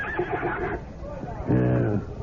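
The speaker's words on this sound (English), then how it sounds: "Go find me another horse, Philonicus. Your Majesty, there is none finer than Bucephalus" A horse neighs in a radio drama about Alexander the Great, a drawn-out whinny following a voice and rising close and loud in the second half.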